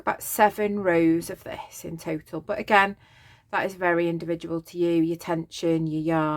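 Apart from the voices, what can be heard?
No everyday noise stands out behind the speech.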